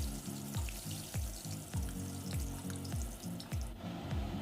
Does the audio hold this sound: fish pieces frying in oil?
yes